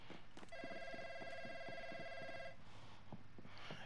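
Telephone rings inside the video game Call of Duty: Modern Warfare, one faint electronic ring lasting about two seconds, set among quiet clicks and soft game sounds, with no speech.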